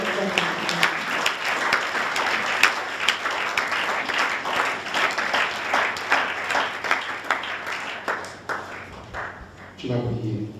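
A church congregation breaks into sustained applause, dense overlapping clapping that swells and fades in waves for about ten seconds, with voices mixed in and a brief spoken or sung passage near the end.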